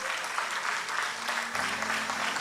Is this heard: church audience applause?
yes